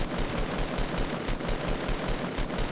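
Rapid automatic gunfire in the Fortnite video game rattles out in a steady stream of evenly spaced shots for nearly three seconds, fairly quiet and distant-sounding, with no talking.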